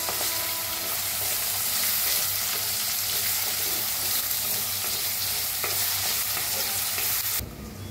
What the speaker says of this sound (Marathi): आता मिक्स करून कांदा असा छान भाजून घेऊया